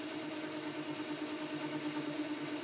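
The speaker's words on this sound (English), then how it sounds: "So if you listen to the background noise, you will hear a harmonic frequency. This is called chatter." An old Boxford lathe cutting metal gives a steady, faint mechanical hum with a sustained ringing harmonic tone of chatter, continuous and alone without any voices.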